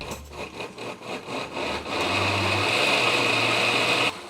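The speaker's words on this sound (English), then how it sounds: "Now let's blend this towards a nice puree" A blender purees tomato, onion, garlic, cumin, oregano and bay leaves, starting with a few choppy pulses and then running as a steady loud whirring motor for about two seconds before stopping abruptly.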